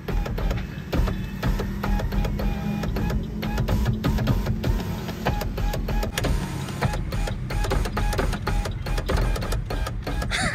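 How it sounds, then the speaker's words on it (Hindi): A Suzuki Cultus power window motor runs with a loud, steady, printer-like mechanical whir and chatter. It lasts about ten seconds, close up and with no talking. "मैं कल्टस की पावर विंडो से खेल रहा हूँ, तो इसकी आवाज़ का मज़ा ले रहा हूँ, जैसे ये कोई प्रिंटर नहीं होता उस तरह की आवाज़ देता ना।"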